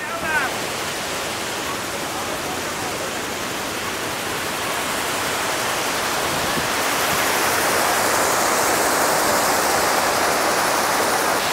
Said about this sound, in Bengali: বিশাল জলরাশি ওপর থেকে পড়ছে এবং জলকণা সারা শরীর ভিজিয়ে দিচ্ছে।